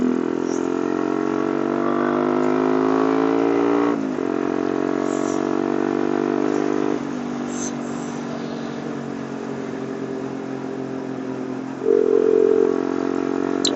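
A Yamasaki YM50 moped drones steadily while riding, its small two-stroke engine pitch rising and dropping through gear changes, close and continuous throughout.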